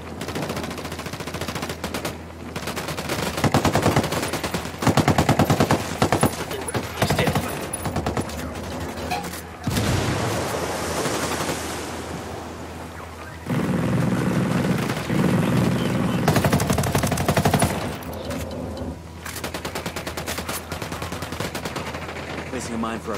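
Heavy gunfire from Ghost Recon Wildlands rattles in loud bursts of automatic weapons fire with sharp single shots. A helicopter-like drone hangs beneath it and brief pauses fall between the volleys.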